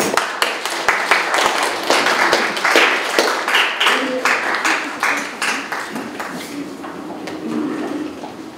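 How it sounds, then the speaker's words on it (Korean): Audience applause welcoming a speaker at a Korean policy forum on the Yushin era: a steady crowd clapping with distinct individual claps, sustained for several seconds and fading slightly toward the end, with some murmured voices underneath. "박수로 맞이해 주시면 감사하겠습니다."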